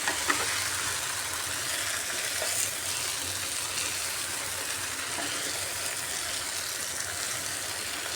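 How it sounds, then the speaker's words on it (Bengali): A spatula stirring jackfruit curry masala in a frying pan, giving a steady loud sizzle and hiss throughout, with a few faint scrapes near the start and no talking. "আবার ডাকাটা সরিয়ে নাড়িয়ে দিচ্ছি ভালো করে"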